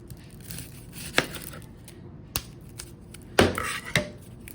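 A knife slices the ends off an onion on a cutting board, producing a few sharp, close chopping clicks and thuds spaced irregularly, with quiet kitchen handling sounds in between.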